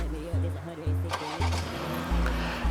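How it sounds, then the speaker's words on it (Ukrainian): BMW X5 G05 SUV starting by remote start: a deep low engine rumble kicks in and settles into a steady idle, with a few repeated surges across the short stretch. "І зараз за дві секунди машина заведеться."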